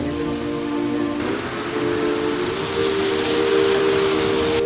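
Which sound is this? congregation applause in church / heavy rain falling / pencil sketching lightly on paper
heavy rain falling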